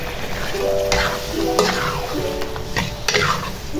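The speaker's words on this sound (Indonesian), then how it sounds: "Setelah bumbunya wangi, kita masukkan daging sapinya ya Bun." Beef sizzling in a fragrant spice paste, a steady close fry with repeated spatula stirs and scrapes against the pan, no talking.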